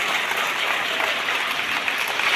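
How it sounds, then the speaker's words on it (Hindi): Audience at a certificate distribution ceremony in Bhilai applauds for mothers, a continuous wash of many hands clapping at even volume for a couple of seconds, with no one speaking over it. "जोरदार ताली बजाओ मम्मी के लिए।"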